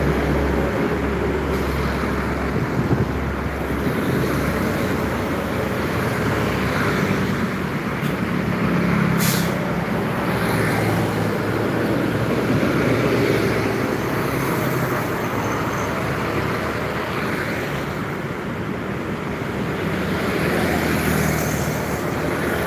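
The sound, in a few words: small trucks passing on a road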